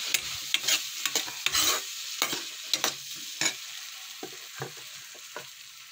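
Cluster beans tossed in hot oil with chilli and garlic, with sharp intermittent stirring scrapes and spatula knocks over a soft background sizzle, close and fairly quiet.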